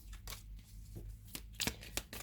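A deck of tarot cards shuffled softly up close, several quick riffling bursts separated by short pauses over a low steady hum.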